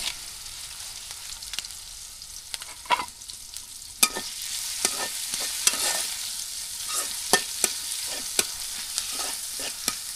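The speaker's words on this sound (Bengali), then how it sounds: "এই যে পেঁয়াজগুলো কিন্তু সব ভেজে নিয়েছি" Onions fry in a pan over a clay stove in a village kitchen in Bangladesh. A soft, steady sizzle runs under scattered sharp scrapes and clacks of stirring, and no one speaks.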